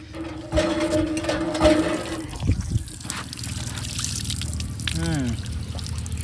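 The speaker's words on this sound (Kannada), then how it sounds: "ಬೋರಿಂಗಲ್ಲಿ ನೀರು ಕುಡಿಯೋ ಮಜಾನೇ ಬೇರೆ." Water from a borewell pump near a temple pours and trickles nearby in a steady, splashing stream, with brief voices over the flow.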